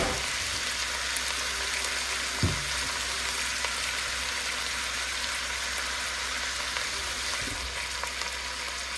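Chicken browning in batches inside an Instant Pot gives a steady, close sizzle and crackle of frying that runs unbroken throughout, with a couple of soft knocks and no talking.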